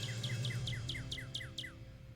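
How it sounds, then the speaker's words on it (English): A played recording of bird calls: a rapid series of about eight bright, repeated two-part chirps, each a high note dropping into a lower slur, in a steady rhythm over a constant low hum. "I guess we're listening to bird calls now."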